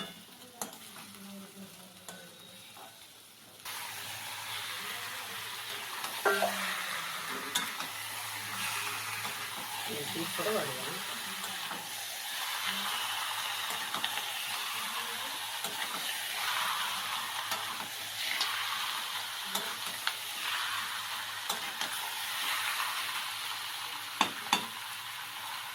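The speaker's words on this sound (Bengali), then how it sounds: "তো এবার মাংসটা আমার বরই করছে" A husband stirs and fries meat in a pan, with a steady close sizzle and hiss and occasional scrapes of the utensil against the pan throughout.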